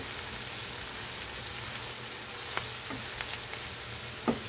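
Mushroom spaghetti sauce cooking in a pan gives a soft, continuous sizzle like light rain, with a few faint clicks and one brief clatter near the end, no voices.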